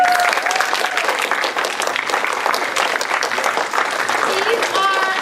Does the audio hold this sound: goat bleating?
no